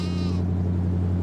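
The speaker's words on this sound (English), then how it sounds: "Shut up, sheep." A sheep in Farming Simulator 22 gives a single bleat at the start, fading out over a steady low mechanical hum that runs throughout.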